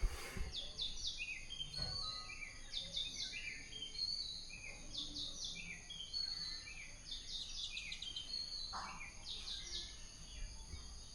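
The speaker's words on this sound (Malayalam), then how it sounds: "കിളിയുടെ ശബ്ദം ഇപ്പോഴും കേൾപ്പിച്ചു തരാം" A bird outdoors in the morning at a rural Kerala home gives repeated high chirping calls in short bursts every few seconds over a faint, steady background hum, with no talking.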